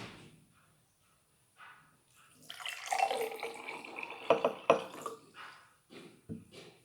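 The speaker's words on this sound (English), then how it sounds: "So now I am going to pour some water in this empty glass." Water poured into an empty glass during a simple science demonstration, a splashing pour that swells and fades with a few clinks and knocks, close and fairly clear, with no talking.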